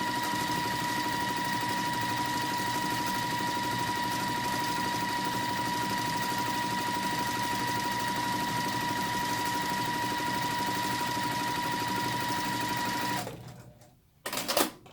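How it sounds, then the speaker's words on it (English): A sewing machine stitching quilt fabric pieces along a quarter-inch seam: a steady, close mechanical hum and rapid needle chatter running continuously for about thirteen seconds, then stopping with a few handling clicks. "with my 1/4 inch seam I'm going to go ahead and sew those two together"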